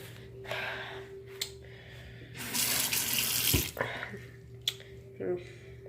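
Water runs from a tap into a sink to rinse a fresh cat scratch, a broad steady gush for about a second in the middle, with short splashes and trickles before and after and faint voices around it.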